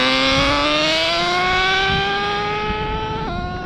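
An HPI Savage XL nitro RC truck with a 2-speed transmission and a still-cold engine screams at high revs. The pitch rises steadily, then drops sharply near the end as it shifts gear.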